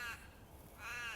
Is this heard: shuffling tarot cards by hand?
no